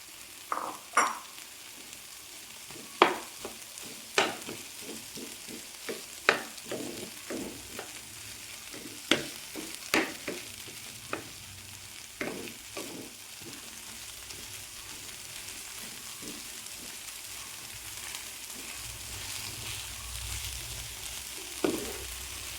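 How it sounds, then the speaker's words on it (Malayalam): A metal ladle mashes cooked egg mixture with egg yolk in a pan for an egg snack, giving a series of sharp, irregular scrapes and taps, close and moderately loud, that thin out toward the end with no talking. "ഈ കയ്യിൽ കൊണ്ട് തന്നെ തവി കൊണ്ട് തന്നെ ഉടച്ചു മതി"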